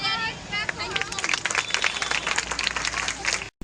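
Audience clapping breaks out in a room, scattered and uneven over about three seconds, mixed with crowd murmur and a voice speaking over it, before cutting off abruptly.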